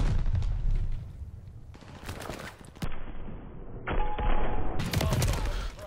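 Sniper rifle fire in the shooter game Call of Duty: Vanguard, with dense bursts of gunshots and heavy thuds going on throughout and a few sharp cuts and jumps in loudness across the stretch.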